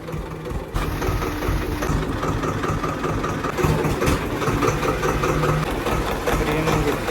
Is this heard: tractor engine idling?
yes